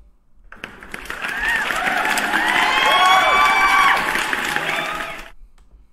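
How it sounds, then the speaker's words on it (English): A crowd breaks into a round of applause mixed with cheering, whoops and shouting voices, swelling quickly from silence, holding loud for several seconds and then cutting off abruptly. "Let me give you guys a round of applause."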